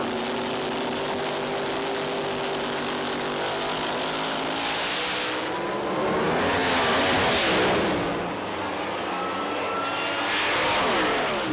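Drag race cars make a loud, close pass in the heat of the day at the 2007 IHRA North American Nationals, a sustained roaring engine drone that swells and peaks midway before fading, with no voices.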